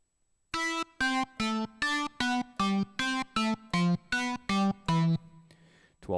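Twelve evenly spaced guitar notes played as four triplets, each a descending triad stepping downward, clean and distinct with a brief ring at the end.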